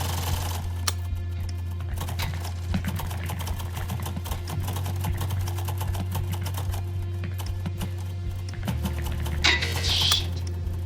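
Keys clatter in quick, dense, irregular bursts throughout a typing video game, loud and close over a steady low electronic hum from the game, with a brighter burst near the end.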